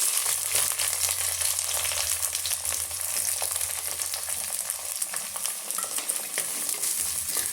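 Chopped onions sizzle and crackle steadily in a hot pan, a dense close frying hiss with occasional stirring, no talking.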